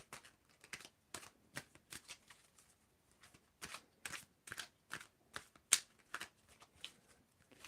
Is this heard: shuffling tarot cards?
yes